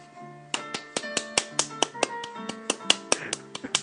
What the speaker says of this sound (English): That's you clapping.